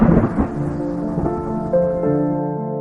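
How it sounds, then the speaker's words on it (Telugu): Heavy rain with rolling thunder crashing at the start, then a sustained roar of rain that carries a tonal, music-like layer throughout. "పెద్ద భయంకరమైన వర్షం మరియు ఉరుములు మరియు మెరుపులు"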